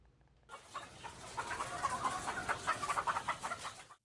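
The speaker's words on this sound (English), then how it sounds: "These chickens are not crossing the road. With Taiwan's recent cold spell, they are staying inside their coop" Hens in a coop in Taiwan during a cold spell cluck and murmur together, a close cluster of soft, overlapping, irregular clucks that builds and then cuts off.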